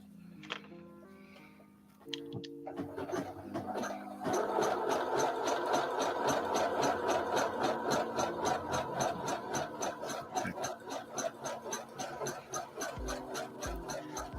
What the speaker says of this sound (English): I think I'm out of thread. I don't know. I'm still sewing.